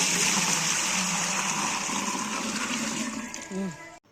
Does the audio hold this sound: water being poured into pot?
yes